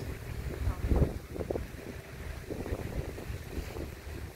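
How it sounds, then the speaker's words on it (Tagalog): Ferry under way off Peng Chau Island, Hong Kong, heard as a steady low rumble of engine and water wash mixed with gusty wind buffeting the microphone, continuous and fairly loud throughout. "Ayan, umaandar na yung ferry."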